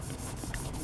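Screwdrivers are scrubbed with a 3M Scotch pad and Bon Ami cleanser, a short, close, gritty rubbing scrape.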